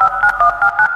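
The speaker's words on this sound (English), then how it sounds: "your pal Rambly has the repairman on speed dial" Rapid telephone keypad dialing in the video game Indigo Park: a quick, loud series of about six evenly spaced two-tone beeps, heard alone.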